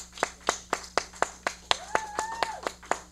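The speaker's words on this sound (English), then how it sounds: "let's get a round of applause for these young people" Sparse, rhythmic hand clapping from a small audience at a year-end variety show, about a dozen evenly spaced distinct claps with a brief whistle-like tone rising midway.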